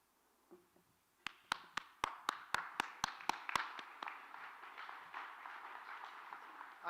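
Applause at a charity dinner, opening with a few crisp, evenly spaced single claps that quickly swell into sustained, dense crowd clapping.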